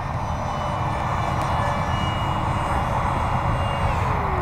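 Remote-control Nitroplanes F-18 model jet flying steady crosswind circles, a continuous loud engine drone with a faint whine above, holding near and even throughout.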